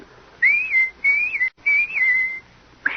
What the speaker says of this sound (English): anytime you need me, just whistle, like this.